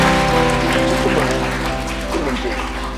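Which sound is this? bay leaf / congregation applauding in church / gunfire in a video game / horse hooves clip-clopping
congregation applauding in church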